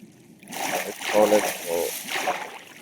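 Water poured from a height in Minecraft Java Edition, a bright splashing and trickling burst that starts abruptly and runs on in close, uneven surges before trailing off.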